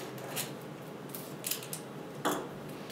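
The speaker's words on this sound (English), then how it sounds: "You can cut that right off with a pair of scissors or the razor blade." Scissors snipping through tape on a plastic-covered storm window frame, a few short crisp cuts spaced apart over a steady background hiss.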